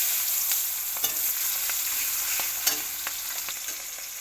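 Onions go into hot oil already seasoned with dried red chilies, garam masala and cardamom, giving a steady close sizzle broken by a few sharp clicks of stirring, with no voices.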